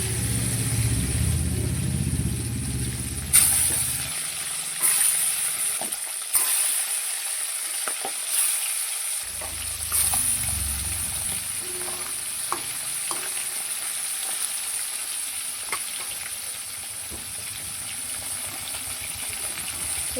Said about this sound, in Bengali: তেলটা গরম হয়ে গেছে, এবার মাছটা দিয়ে দেবো একটা একটা করে